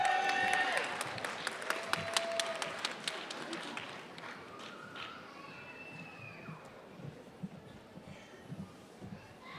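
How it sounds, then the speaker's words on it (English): A graduation ceremony crowd claps and cheers, starting loud with sharp, scattered hand claps and whoops, then tapering off into a softer murmuring hubbub with occasional claps and shouts. "Wow, you are a rowdy crowd."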